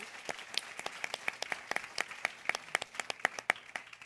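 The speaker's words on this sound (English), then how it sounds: "Please join me in a round of applause for our phenomenal panel." An audience claps for a panel at an event about girls in STEM and career education: a modest round of scattered, fairly distinct handclaps, steady in pace throughout, with no voices over it.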